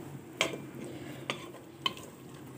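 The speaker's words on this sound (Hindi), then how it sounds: "अच्छे से मिक्स करके" Chicken with sauces, spices and carrots being stirred in a pan, with a low continuous sizzle and three or four distinct spoon scrapes and knocks against the pan, no voices.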